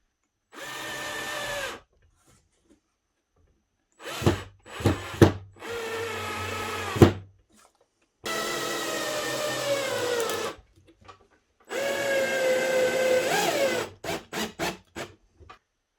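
A power tool cuts wooden blocks in several separate bursts of loud whirring, with short pauses and a few quick clicks between them.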